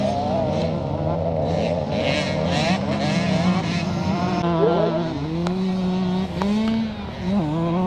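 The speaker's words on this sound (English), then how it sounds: "this final lap of this 125 and 85cc big wheel race" 125cc and 85cc big-wheel motorcycles racing on the final lap of a classic charity scramble in Northern Ireland, a loud continuous engine drone with rising and falling revs as several bikes pass, under faint commentary.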